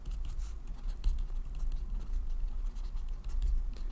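A marker scratches and taps across a surface while a sketch is drawn, a continuous busy patter of short strokes, close and moderately loud, with no talk over it.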